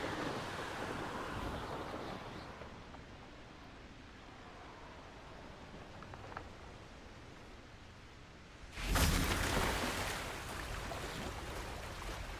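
Water waves wash in a Harry Potter video game, a soft steady surf-like hiss that swells into a louder rushing surge near the end, with no talking.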